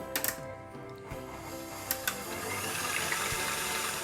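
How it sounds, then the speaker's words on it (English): Electric hand mixer whipping thickened cream in a mixing bowl toward stiff peaks, a steady close motor whir with a few clicks and knocks of the beaters against the bowl, no talking. "using a hand mixer or a stand mixer, we're going to whip this up until stiff peaks start to form"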